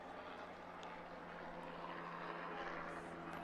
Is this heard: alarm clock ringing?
no